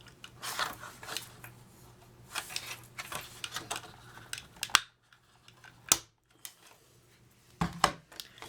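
A 1-inch circle punch cuts paper for a soap gift box top, producing quiet, sharp clicks and crisp snips in short bursts with pauses between, close and faint with no voices.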